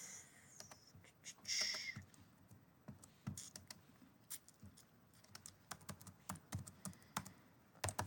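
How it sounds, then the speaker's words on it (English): Quiet typing on a computer keyboard in an office setting: irregular clusters of light key clicks at close range, over a low steady room hum, with no speech. "But let me just write this down for Vanith."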